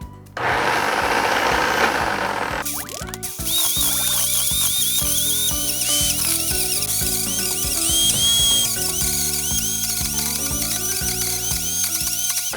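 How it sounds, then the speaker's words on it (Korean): A blender runs steadily at its lowest speed, grinding celery without added water, with a dense mechanical whir and rattling chop that stays loud and continuous after a short burst at the start. "지금 이렇게 저는 1단으로 이렇게 갈고 있었거든요"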